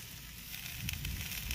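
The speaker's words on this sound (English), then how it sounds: "I went ahead and cooked you up a steak." A steak sizzling as it grills, a continuous close hiss with faint crackles that grows slightly louder partway through, with no talk.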